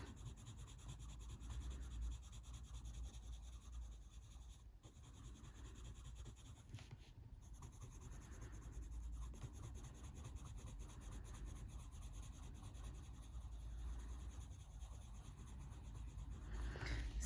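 Colored pencil rubs over textured paper in a steady, faint scratching, repeated back-and-forth strokes close up with no voices, while a bumblebee is colored in.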